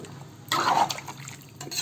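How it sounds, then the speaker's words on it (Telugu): Water poured from a small glass into a pan of goat head curry, a brief splashing gush that fades to a trickle. "చిన్న గ్లాసుతో ఒక 3 గ్లాసులు నీళ్ళు పోయాలి"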